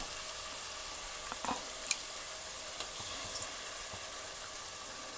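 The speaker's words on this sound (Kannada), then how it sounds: "ಇದನ್ನ ಚೆನ್ನಾಗಿ ಫ್ರೈ ಮಾಡ್ಕೋಬೇಕು" Tomato masala with yogurt frying for chicken biryani, a soft continuous sizzle with a few faint stirring clicks, close but quiet.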